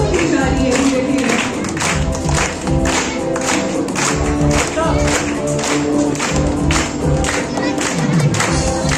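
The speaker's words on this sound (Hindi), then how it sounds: "तालियां कम होती जा रही है धीरे धीरे।" Audience applause at a prize distribution and closing ceremony, a dense wash of many hands clapping that holds steady and loud before thinning slightly toward the end.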